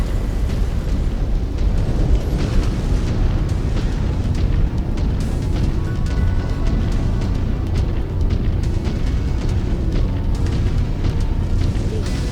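A mech blows apart in the MechWarrior 5: Clans video game, a loud, sustained rumbling boom with dense low-end crackle that fills the whole stretch at a steady level.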